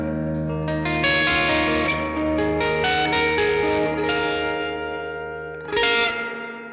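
An electric guitar runs through a Gamechanger Audio pedal's spring reverb with the drive cranked, giving distorted, ringing chords with a wet, splashy spring tail, a sudden bright swell near the end, and no talk.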